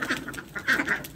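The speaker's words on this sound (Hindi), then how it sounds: "ये मारला डक्स है, ये इसका मेल देखें, और ये दो फीमेल है।" Mallard ducks, a male and two females, quacking in a quick run of several close, nasal calls.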